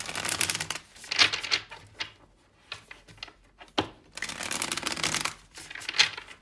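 Oracle cards are shuffled by hand in several quick bursts of crisp riffling and flicking, separated by short quiet pauses, close and clear.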